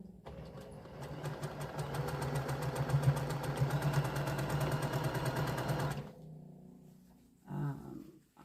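Sewing machine stitching a jelly roll quilt runs in a fast, even mechanical whir for about six seconds, close and moderately loud, then stops, leaving a brief faint clunk.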